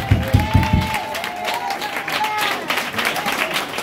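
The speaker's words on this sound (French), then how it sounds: "Est-ce que tu peux l'acclamer maintenant?" A church congregation applauds and cheers during a service, with a burst of rhythmic clapping followed by sustained crowd noise and voices, steady and fairly loud throughout.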